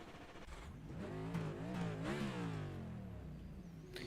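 A race car engine in a racing video game, during Daytona qualifying, accelerates through rising, sweeping gear changes at low volume.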